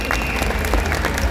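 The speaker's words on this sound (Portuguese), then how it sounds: "Então uma salva de palmas calorosas aí mais uma vez." Warm crowd applause at an anime guide launch event attended by the actors, a brief burst of many hands clapping together at close range.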